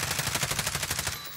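Rapid automatic gunfire in the video game Warzone, a fast even burst of about a dozen shots in quick succession, loud and close, cutting off near the end.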